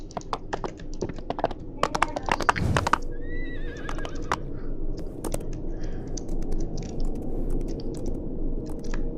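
A horse in a snowy blizzard-island video game map whinnies in rising, wavering calls over steady clip-clop hoofbeats and clicking game noise, with a burst of louder thumps early on.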